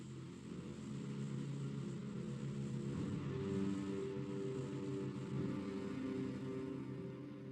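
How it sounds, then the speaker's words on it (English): Propeller airplane droning overhead, a steady low engine rumble that swells slightly midway and holds at moderate loudness throughout, with no voices. "Vasily, who became an alcoholic and who keeps flying over Red Square on his plane."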